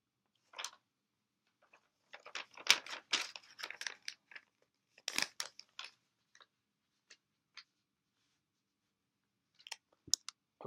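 Sheets of paper are handled and shuffled at a desk, making scattered dry rustles and crinkles in short bursts separated by silent gaps, close and fairly quiet.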